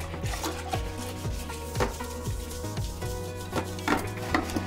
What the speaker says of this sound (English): it's a dispensing toilet brush, which you simply unscrew the lid, pop the product in, and then dispense away